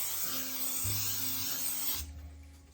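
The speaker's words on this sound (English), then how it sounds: "I spray my bowl" A can of cooking spray hisses into a bowl in one continuous two-second burst, close and fairly loud, then cuts off.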